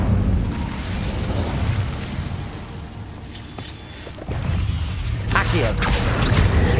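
Incendio fire spell cast in the video game Hogwarts Legacy, a loud whooshing burst of flame with booming crackle, layered over continuous game music and effects, with a spoken incantation.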